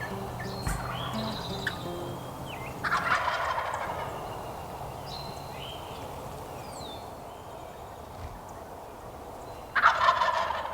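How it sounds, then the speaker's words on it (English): Wild turkeys gobble off the roost on a clear, cold morning at a Michigan turkey hunting camp. Several loud gobble bursts ring out at intervals, with fainter bird chirps between them. "These birds did exactly what we were hoping they would do off of the roost"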